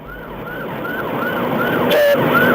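Wailing police sirens rise and fall in a rapid repeating sweep, loud and close, over the hum of vehicle traffic.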